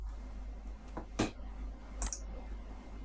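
A computer mouse clicks a few times at an uneven pace, the sharp clicks sounding close against a low, steady hum with quiet background noise.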